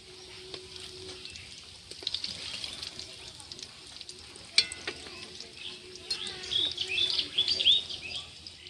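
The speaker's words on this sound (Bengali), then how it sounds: "এখন উল্টে একটু ভেজে নেব।" Gentle sizzling of bread slices frying in oil runs throughout, with occasional clinks and stirring, and a few faint high chirps toward the end.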